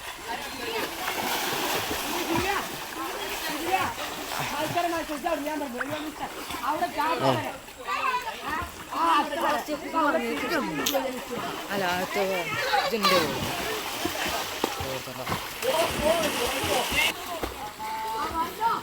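Water splashes and sloshes continuously as people wade through a village panchayat pond, with voices talking and calling over the splashing.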